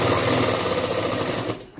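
Sewing machine running steadily while stitching blouse fabric, a continuous close whirring hum that cuts off near the end.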